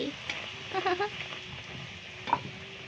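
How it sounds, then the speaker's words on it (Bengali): Luchi fry in hot oil, giving a soft, steady sizzle with a few light stirring touches, faint and fairly distant. "আমি কত সুন্দর করে লুচি ভাজতে পারি"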